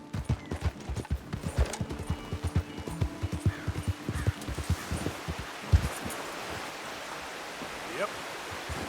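Horse hooves clip-clopping in Red Dead Redemption 2, a steady rapid run of hoofbeats up close, with a voice briefly over them and a watery rushing backdrop.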